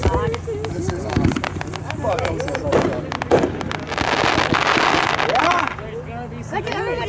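Backyard fireworks on Thanksgiving crackle and pop in rapid bursts, with sharp bangs and a dense fizzing crackle in the middle, while excited voices talk and shout nearby throughout.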